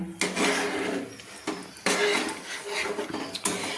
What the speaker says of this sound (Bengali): এইভাবে খুন্তি দিয়ে একটু নেড়ে নিলাম